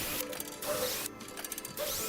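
Ratcheting fasteners to join two greenhouse roof beams, using 1/4 inch by 3 inch broadhead coarse-thread fasteners: rapid, close mechanical ratchet clicks in two short bursts separated by a pause.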